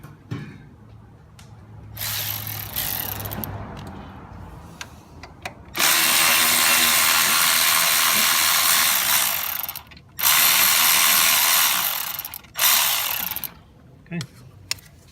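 A Milwaukee cordless power tool backing bolts out on a 2007 Dodge Nitro RT during AC compressor replacement, with loud sustained whirring bursts, a long run and several shorter ones, close up, with ratcheting clicks in between.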